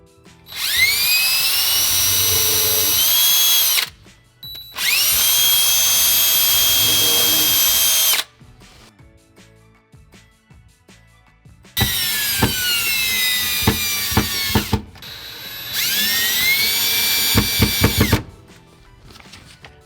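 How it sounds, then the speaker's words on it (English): A power drill drives mounting screws into a wall for a water filtration system, whining loudly in four sustained runs separated by short pauses, with pitch rising and settling as each screw seats. "go ahead and take a moment to install those 2 mounting screws"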